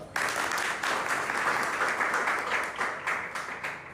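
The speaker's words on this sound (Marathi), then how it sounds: "चांगली टाळी वाजवा" A crowd applauds steadily at a Warkari devotional gathering, dense clapping filling the space for a few seconds before tapering slightly.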